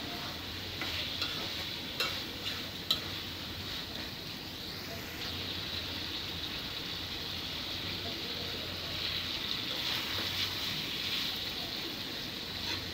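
Country chicken meat being stirred into fried spices in a hot pot, giving a continuous soft sizzle with scraping and stirring and a few sharp clinks of the spoon, close and steady, with no talk.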